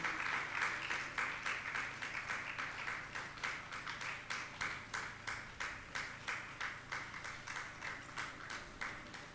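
An audience at a Jain monk's question-and-answer session claps in unison, a long run of sharp, evenly spaced beats kept up steadily for the whole stretch.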